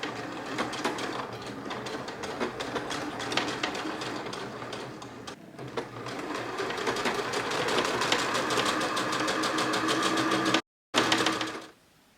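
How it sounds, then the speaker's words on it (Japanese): A sewing machine stitches three tucks into sleeve cuffs during a garment remake, giving a rapid, steady, close needle chatter that runs continuously before a brief stop near the end. "袖口のタックを3本縫おう。"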